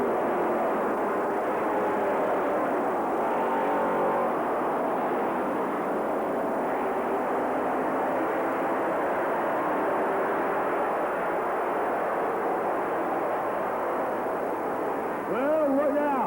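Race cars roar around Rockford Speedway at the 1998 Bahama Bracket Nationals, a dense, continuous engine drone from the pack under a voice, with a rising whine near the end as a car passes close.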